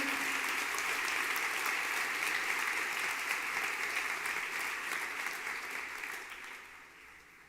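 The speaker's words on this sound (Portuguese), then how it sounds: "Você consegue aplaudir ao Senhor pela sua palavra agora?" A church congregation applauds together in a steady, dense wash of clapping that holds strong before fading out toward the end, with no voices over it.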